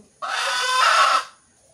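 A pet rooster crows once, near and full-voiced, holding a strained, even call for about a second before it fades quickly into quiet.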